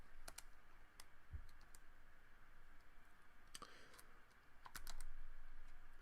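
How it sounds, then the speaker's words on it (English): Keys are tapped on a handheld calculator in a quiet room, a few soft separate clicks at uneven intervals with short pauses between them. "something that I'll figure out with my handy dandy calculator"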